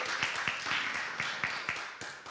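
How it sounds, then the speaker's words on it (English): A small group of attendees at an ethnic studies faculty council meeting claps, with a handful of distinct hand claps in a loose, uneven rhythm at close range and no talking. "we can give ourselves a round of applause for that"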